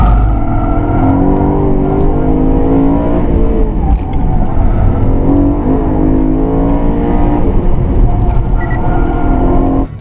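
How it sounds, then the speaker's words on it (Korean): A Porsche 911 engine drones steadily and loudly throughout, with rising and falling harmonic tones as it revs, heard from close inside or near the vehicle. "이 차 같은 경우는 솔직히 엔진 사운드가 그렇게 매력적인 차가 아닙니다"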